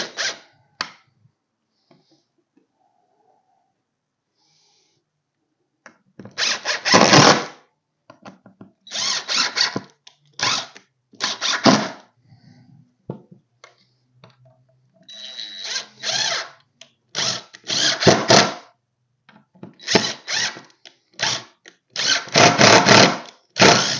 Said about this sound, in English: It sounds like I'm tightening it down pretty good, but I'm really not.